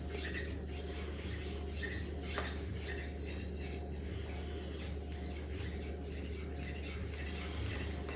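A HORL 2 rolling knife sharpener rolls along a kitchen counter against a Takamura R2/SG2 steel knife, giving a faint, steady scraping rub with light metallic ticks.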